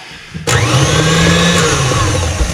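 An electric mixer starts abruptly and whirs at a steady high speed through oatmeal raisin cookie dough, loud and close with a constant motor whine and no talk.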